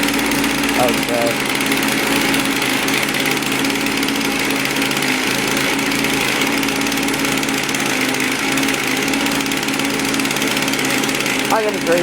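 A small pull-start engine, unused for about a month, runs after a cold start with a loud, steady, buzzing drone close by, holding constant throughout with a brief higher rattle near the end.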